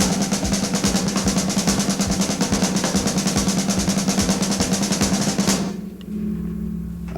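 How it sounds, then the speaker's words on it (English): A fast paradiddle mummy-daddy drum rudiment is played as a dense, even stream of rapid strokes for several seconds, then stops abruptly, leaving a low hum. "It's just joining the mummy-daddy roll and the paradiddle together."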